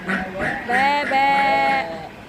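A voice imitates a duck quacking during a storytelling session, a few nasal, harmonic squawks rising and falling over about two seconds, close and fairly loud.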